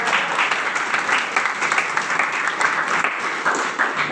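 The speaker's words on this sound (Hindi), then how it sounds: "तालियां बजा लो।" An audience at a network marketing seminar bursts into sustained applause, dense steady clapping from many hands filling the room for several seconds without a break.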